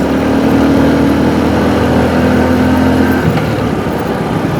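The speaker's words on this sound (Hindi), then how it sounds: "बिल्कुल स्मूथ गाड़ी चल रही है" Steady engine and tyre drone from a car cruising smoothly along a newly finished road, loud and continuous with an even hum, no talking.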